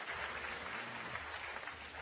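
Quiz show studio audience applauding, a steady, fairly faint wash of clapping that runs unbroken through the short stretch.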